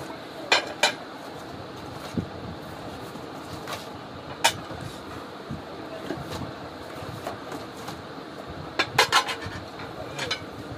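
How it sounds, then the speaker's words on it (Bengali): A seller packing a new square-design dinner set, six ceramic plates and a large dish, with scattered sharp clinks and knocks of crockery, a cluster near the end, over a steady low background hum. "এই যে ভাই একদম সুন্দর করে প্যাকেট করে দিতেছে"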